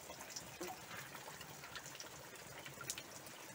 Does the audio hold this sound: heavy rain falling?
yes